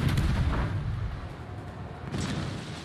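Secondary guns on a warship firing in World of Warships, a dense, continuous barrage of booming shots rolling over one another with no pauses, loud and close throughout.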